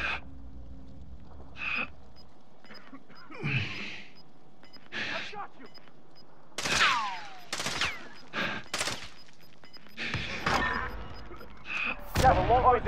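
Gunfire in Call of Duty: Modern Warfare, sharp separate shots and short bursts scattered across quiet gaps, some near and loud, others fainter, with speech mixed in between.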